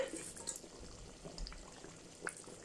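A pot of coconut milk fish curry bubbles at a gentle, steady boil with soft popping and burbling, close but faint, and no voices.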